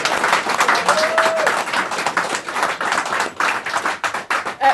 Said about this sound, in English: Let's have a big round of applause for these two